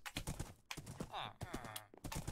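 A horse in the blocky survival game Minecraft, played in hardcore mode, makes clip-clop hoof sounds and brief whinnying cries, close and steady.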